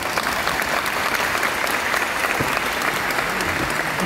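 Audience applause fills an open-air theatre concert, dense steady clapping from a large crowd, loud and continuous throughout.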